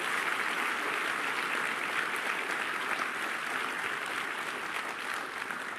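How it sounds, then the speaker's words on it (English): Dense, continuous applause from a large audience at a Clinton conference session on mutual aid in Sudan, steady and fairly loud throughout, with no speech. "would you please join me in giving them one more round of applause"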